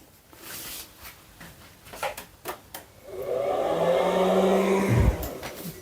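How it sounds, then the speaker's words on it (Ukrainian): A small coffee maker runs from an AliExpress power inverter: a few faint clicks, then a steady, fairly loud whirring hum starts midway and holds before cutting out abruptly near the end. "Вмикаю кавоварку."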